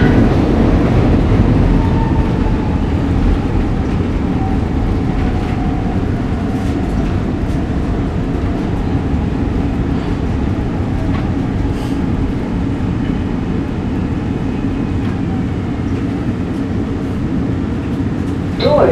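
An M4 car on a 69th Street-bound Market-Frankford Line subway train rumbles steadily and loudly throughout, with a continuous low roar and faint rail squeals, heard from on board.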